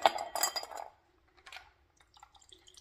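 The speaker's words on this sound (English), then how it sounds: "Put a little ice in my glass." Ice cubes drop into a glass for a grapefruit Paloma, a quick cluster of clinks and rattles up close, then a pause and a few faint taps.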